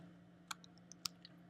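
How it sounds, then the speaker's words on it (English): A few quiet computer clicks, about five short sharp ticks spaced irregularly over a second, sound close against a steady low electrical hum. "I'm going to click with my Shift key"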